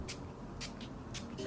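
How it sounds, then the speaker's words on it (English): Face mist sprayed in three quick bursts, each a short airy hiss spaced about half a second apart, close and fairly loud over a faint room background. "Spray my face"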